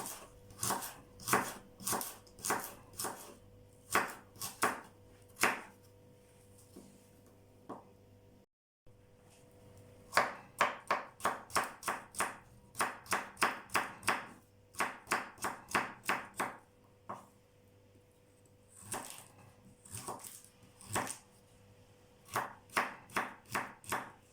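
Steady rapid knife chopping of cucumber and carrot on a cutting board, crisp close taps in bursts with a brief pause midway, no voices.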